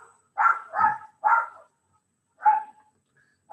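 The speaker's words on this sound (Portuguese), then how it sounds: "O cachorro está querendo participar aqui da aula." A dog barks about five times in short, loud bursts with brief pauses between them, close by, with no talking over it, interrupting an online class.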